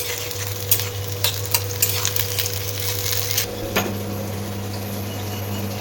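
Tomato and onion fried in mustard oil in a pan, a continuous close sizzle broken by several sharp scraping stirs, with a low steady hum underneath.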